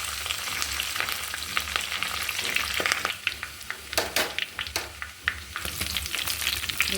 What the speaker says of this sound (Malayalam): നമ്മൾ അരിഞ്ഞ് വെച്ച് സവാള ഇട്ട് കൊടുക്കാം കറിവേപ്പിലും കുറച്ച് ഇട്ട് കൊടുക്കും